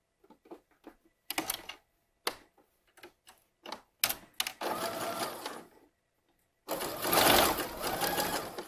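A sewing machine stitches slippery swimsuit fabric and lining layers together, starting with short stop-and-go bursts of rapid clicking needle strokes, then running in longer continuous whirring stretches with a pause between them.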